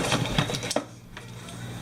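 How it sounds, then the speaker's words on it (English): A toy magic mixer whirs in short mechanical bursts for about the first second and then drops to a quiet hum. It is close by and only moderately loud. "It's called a magic mixer."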